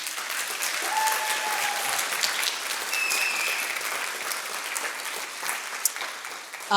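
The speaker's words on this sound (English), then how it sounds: "can we just applaud all of the hard work that went into this event?" An audience at an event claps steadily, a dense wash of applause that holds evenly throughout at moderate distance, with no voices over it.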